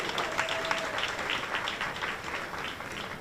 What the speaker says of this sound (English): Give her a round of applause, you guys.